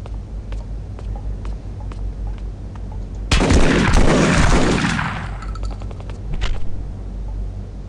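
Shotgun blast from the video game 25 to Life: a single loud, sudden boom that fades over about two seconds against steady background noise, followed by faint clicks.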